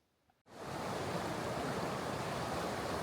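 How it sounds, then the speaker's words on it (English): Fast-flowing creek in open wilderness, a steady broadband rush of water that starts abruptly and holds loud and close throughout, with no talk. "this creek that is flowing a little too fast for Squeaks to cross on his own"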